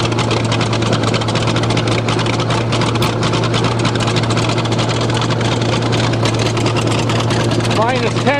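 An old, smoky diesel bulldozer runs in minus 10 degree cold in Canada, its engine holding a steady, loud, continuous drone with a constant low hum throughout.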